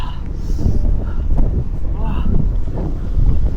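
Strong wind on a mountain road near Fung Kwai Tsui in Yangmingshan, Taiwan, buffets the microphone in steady low rumbling gusts, with a voice exclaiming briefly over it.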